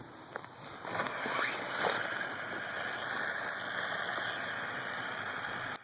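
Parrot AR Drone 2.0 quadcopter motors spinning up, a steady high-pitched electric whine with layered tonal hums that rises in the first second and then holds evenly, close and fairly loud, with no talking.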